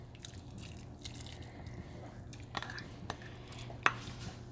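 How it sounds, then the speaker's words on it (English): Clams tipped into a pot of clam chowder give a few sparse, light clinks of shell against metal, faint over a low steady kitchen hum. "here is our last ingredient that we're gonna put in is the clams"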